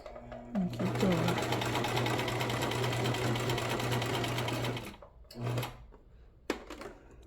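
Sewing machine stitching scrap fabric for a small chapstick holder, with a steady, loud mechanical whir for nearly five seconds, then a pause and a brief second run, close and without talking.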